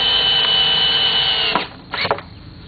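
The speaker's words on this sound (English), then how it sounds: "to screw the piece of plywood to the 2x6" A power drill drives a galvanized deck screw through plywood into a 2x6, a loud steady whine for about a second and a half that cuts off, followed by two short, fainter bursts.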